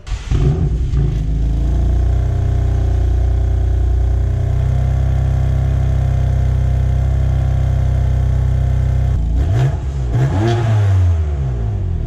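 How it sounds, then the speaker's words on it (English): A 2018 BMW M3 CS with a stainless steel M Sport exhaust tuned for the CS barks to life, holds a loud, sustained droning rev for several seconds, then drops and blips again, close and unaccompanied by speech. "The car comes with a standard M Sport exhaust system that has been specifically tuned for the CS."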